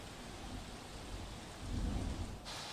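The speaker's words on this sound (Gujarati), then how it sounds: "ખાસ કરીને સુરતના તમામ જે વિસ્તારો છે તેમાં ધોધમાર વરસાદ વરસી રહ્યો છે" Heavy downpour over Surat in a thunderstorm, a thick continuous roar of rain with deep low rumbling swells, loud and steady with no voices.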